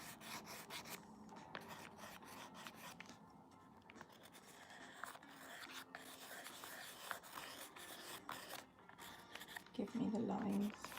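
A pencil drawn across paper makes soft, steady scratching and rubbing strokes, quiet and close, in short repeated bursts that continue throughout.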